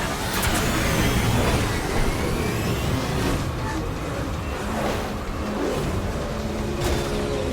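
Truck traffic in Mass Effect 2, with a heavy vehicle engine roaring and rumbling close by, plus whooshes of passing traffic and a hiss like an air brake, steady and loud throughout.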